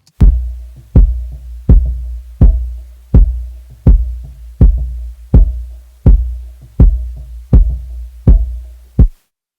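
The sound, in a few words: EQ-filtered kick drum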